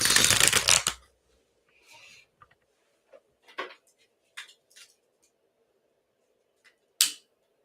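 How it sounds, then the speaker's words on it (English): A quick, loud riffle of tarot cards being shuffled, then a series of soft taps and light handling sounds spread out across the rest. "So I'm going to give it a quick shuffle."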